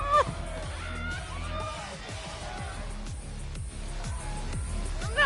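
Loud crowd din at a concert in the video game Life is Strange Double Exposure, a dense steady murmur of many voices with scattered whoops and shouts throughout.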